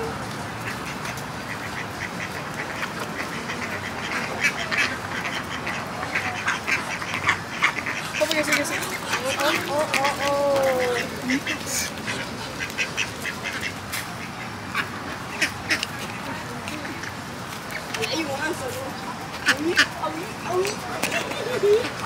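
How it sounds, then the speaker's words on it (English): Ducks quack repeatedly outside a restaurant in Texas, fairly close and clear, while people talk over them against a busy outdoor background. "they got some ducks right here"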